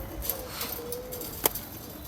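Soft, low pigeon cooing murmurs through the background, with a faint sustained tone and a brief sharp click partway through; no voices.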